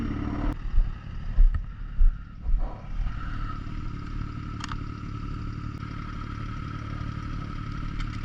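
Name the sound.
motorcycle engine idling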